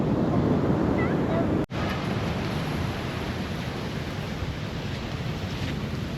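Sea waves and strong wind roar continuously on a beach in Nha Trang, a dense close wash of surf with heavy wind buffeting the microphone and a brief dropout partway through.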